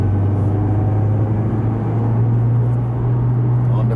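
Formula 3 race car engine holds a loud, steady drone with a constant low hum as it powers along the track.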